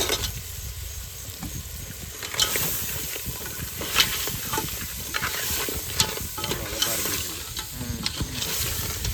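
Vegetables sizzle steadily in a pan while being stirred, with scraping and clattering strokes and soft crackling spatter throughout, cooked outdoors at sea; no voices.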